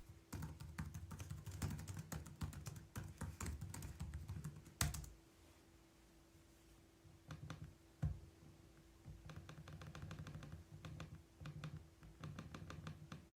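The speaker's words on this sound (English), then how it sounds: "let's give you that quick demo of what it's like to type on and use the trackpad" Typing on an ASUS Chromebook Flip C433TA keyboard and trackpad: quiet, rapid key clicks come in bursts, with a pause of a few seconds of near silence in the middle before the soft tapping resumes.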